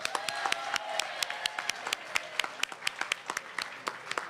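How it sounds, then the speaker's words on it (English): Crowd applauding at an outdoor park party for older adults, a moderate round of clapping with sharp individual claps standing out, fairly close and continuous throughout. "How about just an enormous round of applause for our partner, City Fresh Foods."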